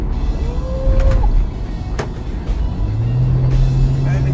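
A Nissan Skyline GT350 accelerates, a steady car engine note running throughout with a rising tone near the end, plus a brief whine early on.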